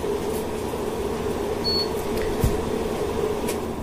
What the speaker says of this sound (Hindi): एसी चल रहा है तो आपको आवाज आ रही होगी